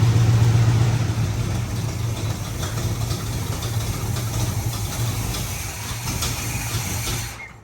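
A 1968 Chevrolet C10 engine with a header exhaust leak idles nearby in a steady, loud, rumbling drone with a ticking, uneven texture, running continuously and alone.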